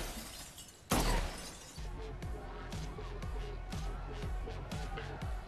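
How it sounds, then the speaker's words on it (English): Sugar glass shatters loudly in a sudden crash during a John Wick film scene on a crowded dance floor, followed by pounding club music with heavy bass beats. "We love a sugar glass moment."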